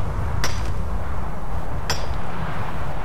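Pickaxe striking ore in Skyrim, two sharp metallic clinks about a second and a half apart, ringing out over a steady low rumble of background noise.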